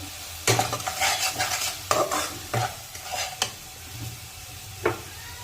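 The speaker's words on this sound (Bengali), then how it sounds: "জিরার গুঁড়ো 1 চামচ দিয়ে ভালো করে এটাকে কষিয়ে নিতে হবে" Spices with chili and cumin powder frying in a pan for eggplant jhal, stirred with a utensil: scraping strokes and clinks over a soft sizzle, close and loud, with no talking.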